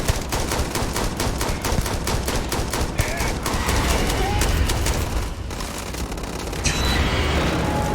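Rapid gunfire in Starfield during a fight with a Terramorph, dense bursts of automatic shots with heavy booms, loud and continuous under a few shouted words.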